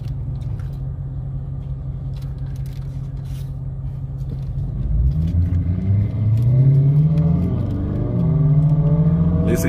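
A 2020 Dodge Charger R/T Hemi rumbles at idle, then revs hard and accelerates, its deep V8 roar rising loud and close with climbing engine tones.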